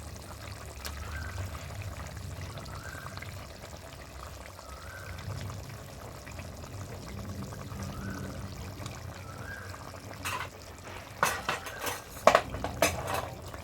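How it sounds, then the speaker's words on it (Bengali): Fish pieces slipped into simmering curry gravy, a faint bubbling simmer under a soft song, followed by a few sharp utensil clinks and scrapes against the pot near the end. "এবার আমি ঝোলে মাছগুলো দিয়ে দেবো।"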